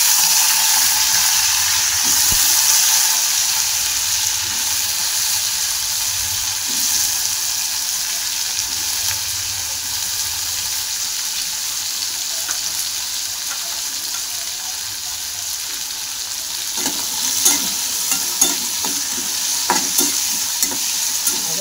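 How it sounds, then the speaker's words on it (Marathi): Cumin seeds and curry leaves crackling in hot oil for a dry potato dish, a loud continuous sizzle with scattered pops and stirring scrapes that grow busier toward the end; no talking. "जिरं लाल झालं कढीपत्ता टाकला"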